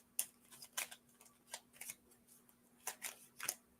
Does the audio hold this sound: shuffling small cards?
yes